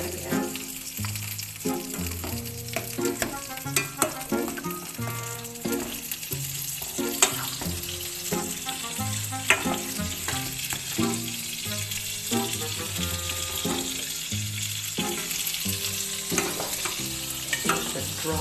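Butter sizzles in a frying pan for pork chops while being stirred, a continuous close crackle with repeated utensil scrapes, running under a steady bed of tonal background music.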